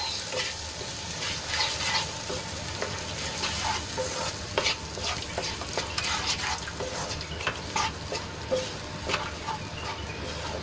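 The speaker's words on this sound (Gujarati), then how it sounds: "પેસ્ટને સરસ રીતે ડુંગળીમાં મિક્સ કરી લઈશું" A prepared spice paste is stirred into onions frying in a pan, with a loud continuous sizzle and repeated close scraping and clinking of a spoon against the pan, no speech.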